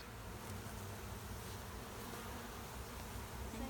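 Honeybees buzz steadily around an open beehive during a beekeeping experience, a dense, continuous drone of many insects close by with no pauses and no talking.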